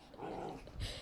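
A dog growls in a low, rumbling stretch beside a food bowl, close and fairly loud, rising to a sharper grumble near the end with no talking.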